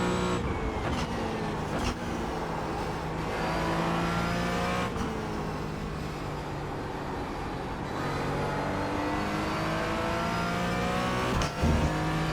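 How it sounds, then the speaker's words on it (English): A race car engine drones loud and close, its pitch climbing and dropping with gear changes and revs as other cars battle nearby. The engine runs continuously for the whole stretch with no talk. "Car on your left."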